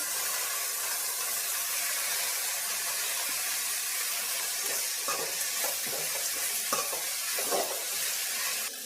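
Okra fries in a pan with a faint, steady sizzle, and a few stirring scrapes come toward the end, heard up close with no speech.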